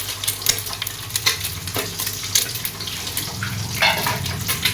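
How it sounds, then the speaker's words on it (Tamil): Beaten eggs hit hot oil in a pan while cooking pasta, a close sizzle and frying hiss with stirring and scraping clatter throughout, no talking. "எண்ணெய் காஞ்சதுக்கப்புறம் முட்டையை உடச்சி ஊற்றிக்க வேண்டியது தான்"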